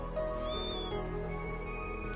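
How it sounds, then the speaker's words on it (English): A cat in the video game Trails into Reverie gives a soft, brief meow over steady game music and ambience, fairly faint against the background. "There's a cat."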